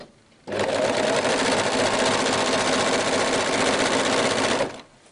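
An overlock serger runs fast and unbroken across fabric cut on the bias, its loud, close mechanical whir starting abruptly and holding steady for about four seconds before cutting off.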